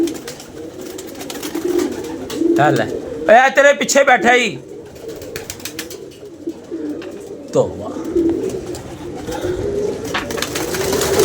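Pigeons coo in a pigeon-keeping loft among a flock of about fourteen birds, low murmuring calls running steadily beneath a man's close, loud speech and occasional bursts of louder talk.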